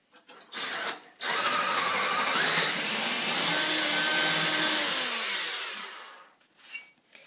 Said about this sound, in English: you have to drill a hole right here 2 centimeters in so the bolt